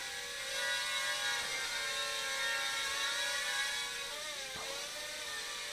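A small X-Drone Nano quadcopter fitted with prop guards hovers close by, giving a steady high-pitched motor whine with layered harmonic tones that dip and waver briefly as the drone adjusts its flight.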